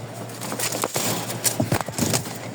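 A male flying-breed pigeon coos close by in a few short throaty bursts, separated by brief pauses and mixed with faint rustling.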